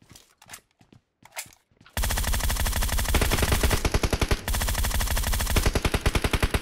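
Gunfire in a shooter video game: a few scattered sharp shots, then loud sustained rapid automatic bursts with brief breaks, close and dominant throughout.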